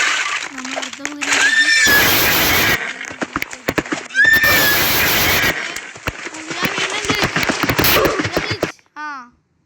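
Horse whinnies in a Roblox castle-fortress escape game, several high, wavering neighs repeating through the stretch with clip-clop hoofbeats and clattering game effects, a voice talking over parts of it.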